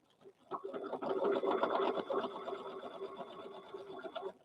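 A sewing machine stitches a fabric teddy bear in a steady, close whirring run of a few seconds, starting and stopping cleanly with no speech.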